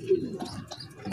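A young racing pigeon of the SRPC club coos softly and briefly amid other bird sounds and faint background voices, with a sharper call near the end.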